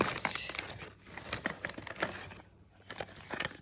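The cellophane and cardboard packaging of a Diesel Fuel for Life perfume box crinkles and crackles up close in quick, busy bursts, with a brief pause midway.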